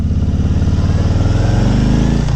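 A 2018 Harley-Davidson Low Rider on a test ride, its V-twin engine giving a loud, steady, throbbing rumble right up close that rises slightly in pitch as it pulls.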